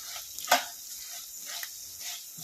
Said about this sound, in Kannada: ಟಿಟ ಪಟ ಅಂತ ಸದ್ದು ಬರ್ತಿದೆ